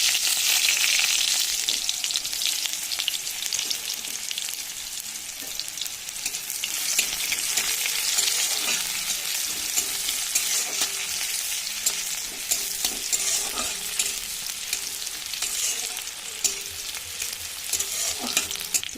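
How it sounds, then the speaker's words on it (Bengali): Chopped onions fry in hot oil in a wok with cumin seeds while being stirred, giving a loud, continuous sizzle with a steady crackling hiss. Scraping stir strokes recur throughout, and no voices are heard. "পেঁয়াজগুলো ভালো করে ভাজা হয়ে গেছে"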